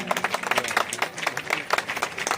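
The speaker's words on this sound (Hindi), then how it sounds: "फिर से एक बार जोरदार तालियां।" A crowd applauds loudly at a Maratha community gathering celebrating Shivaji Jayanti, with dense, steady clapping sustained throughout and no speech over it.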